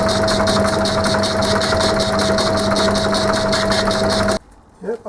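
A Gingery shaper cuts aluminium shim stock on its ram in a steady, rhythmic metallic chatter of repeated strokes with a constant tone beneath. The machine stops abruptly near the end and only faint room noise remains.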